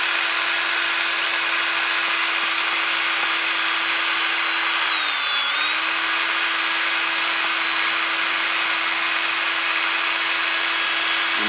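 A power drill spins a burnishing tool against a leather edge, giving a steady, loud, high whirring hum with a brief dip in pitch midway, no speech.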